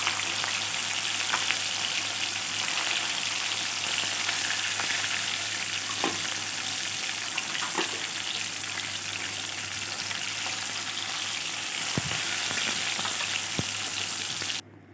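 Fish sizzles steadily in hot oil in a pan, a dense continuous frying hiss with occasional small pops and stirring sounds, close and unbroken until a brief drop at the very end.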